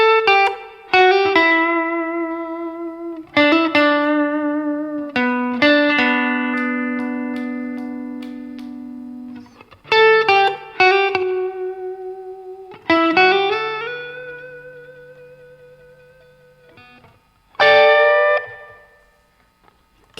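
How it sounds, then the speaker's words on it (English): An electric guitar plays the short sax solo line from a song, a run of plucked and bent notes in several phrases with pauses between, clear and close with a slight effect-laden sheen, no talking. "Then we've got this little sax solo, so it sounds like this."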